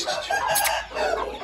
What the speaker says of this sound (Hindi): बड़ा खूबसूरत मुर्गा है और बहुत असील बच्चे बनाता है